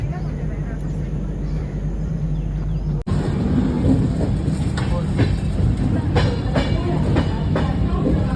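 A train pulls into Kalyan railway station with a loud, heavy rumble of wheels and carriages, rhythmic clacks over rail joints and a sudden shift partway through, recorded from on board.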